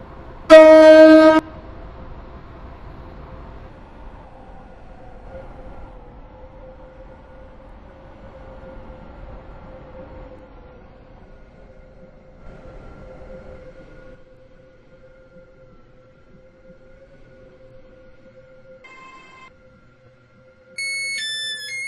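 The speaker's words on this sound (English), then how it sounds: "We will shortly be arriving at Stepford Central." A train in a video game pulls into a station, opening with a loud horn blast, then a steady low rumble that slowly fades, ending with a short electronic chime.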